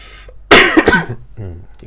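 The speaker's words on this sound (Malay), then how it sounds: "Cikgu batuk, minta maaf lah ya, ganggu kamu ke." A teacher gives one sharp, harsh cough at close range, followed by a brief throat-clearing rasp, loud against near silence.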